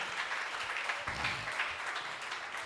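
Congregation applauding at a church service, a steady wash of clapping hands at moderate distance, continuous and fairly even with no talking.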